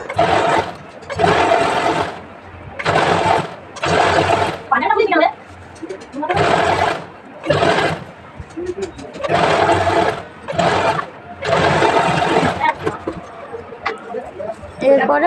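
Sewing machine stitching a blouse waistband strip in short repeated bursts of loud, close motor whirring separated by brief pauses, each run lasting about a second.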